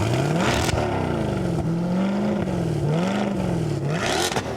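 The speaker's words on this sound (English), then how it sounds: "Can you hear that supercharger whine?" A running Corvette Z06 engine fitted with a Lingenfelter supercharger gives off a loud continuous whine that rises and falls in pitch over a steady engine roar, heard close up at a collector car auction.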